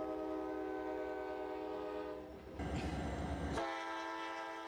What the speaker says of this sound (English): This Alaskan train is one of the main attractions.